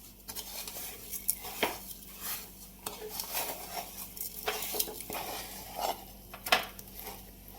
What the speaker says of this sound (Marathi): आता याला आपण व्यवस्थित मिक्स करून घेऊया।